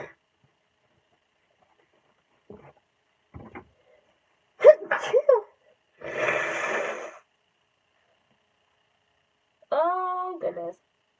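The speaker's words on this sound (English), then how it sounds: "Ooh, excuse me, I'm gonna sneeze." A single loud, breathy sneeze from a woman indoors, preceded by a sharp intake of breath, with brief speech and quiet breathing around it in an otherwise silent room.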